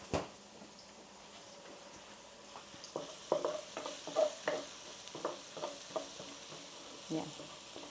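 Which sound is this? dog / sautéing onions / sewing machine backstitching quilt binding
sautéing onions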